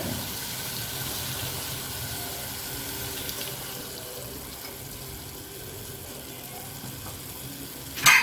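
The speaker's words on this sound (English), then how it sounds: "So we'll just sprinkle some water." Water sprinkled onto green beans frying in a pan, a steady hissing sizzle with a watery wash throughout, ending in a short louder clatter.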